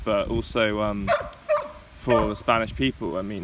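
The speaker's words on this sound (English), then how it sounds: "sorry about that dog" A dog barks a few times in the background while someone talks over it on a remote call.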